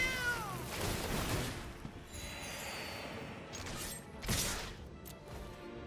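A cat meows with rising, drawn-out cries set against steady background noise, a single loud call standing out near the end.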